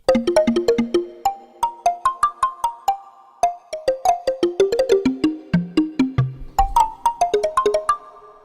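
A Roland JX-10 analog synthesizer plucks quick, snappy notes in a rapid arpeggiated run, each note starting sharply and decaying fast, climbing and falling in pitch.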